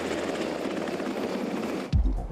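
Black Hawk military helicopter flying, its steady rotor thrum and turbine roar loud and continuous, ending in a sudden low, heavy rumbling thump near the close.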